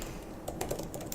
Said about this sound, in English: somebody right now is furiously typing